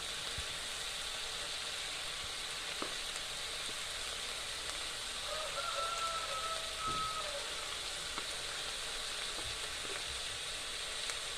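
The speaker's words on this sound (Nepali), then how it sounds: "सबै मसला हालेर एकैछिन चलाएँ।" Potato and fiddlehead curry sizzles steadily in a pan as salt, turmeric, chili and spices are stirred in, a continuous frying hiss with soft scraping stirs, moderately close and without voices.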